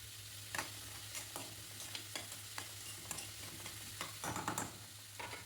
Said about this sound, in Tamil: கடாயில் ஆயில் நல்லா ஹீட் ஆனதுக்கப்புறம் வெங்காயம் சேர்த்துக்கோங்க. கூடவே கருவேப்பிலை சேர்த்து நல்லா வதக்கி விட்டுருங்க.